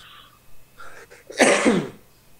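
One sharp, loud sneeze close to the microphone during a Spanish basketball radio podcast, a burst of broadband noise after a short breathy intake and faint voice before it.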